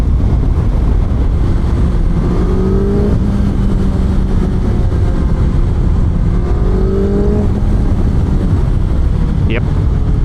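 A BMW S1000XR motorcycle on the move, its engine rising and falling in a few revving pulls beneath heavy, constant wind buffeting on the microphone.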